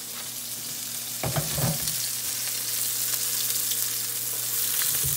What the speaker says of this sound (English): The scallops are perfect. We're taking them off the flame.